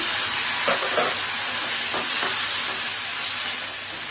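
Ginger, garlic and green chilli paste frying in hot oil with onions for a dhaba-style egg curry, a loud steady sizzle with a few stirring scrapes, close up and with no speech.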